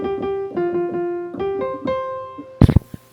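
Piano melody with a second counterpoint voice moving above it, two independent lines of clear notes played at an even pace, close and moderately loud, ending with a brief burst of noise.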